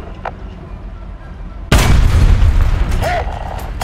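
A tank cannon fires in War Thunder, one sudden loud boom followed by a long rumbling tail, with faint game sounds before it.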